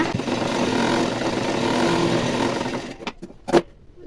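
A sewing machine runs a top stitch along the lining of a puff sleeve, buzzing steadily and close for about three seconds before stopping, followed by a few short knocks and handling sounds.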